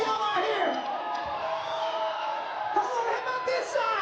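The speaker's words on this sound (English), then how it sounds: "Let me see how loud y'all are here." Large crowd at a FIBA 3x3 World Tour basketball final in Hong Kong cheering and whooping steadily and loudly, a dense roar of many voices with scattered shouts throughout.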